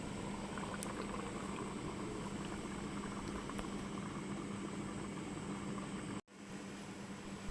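An egg and potato curry simmers under a closed lid, giving a steady, even bubbling hiss that continues throughout before a brief sharp break near the end, then resumes.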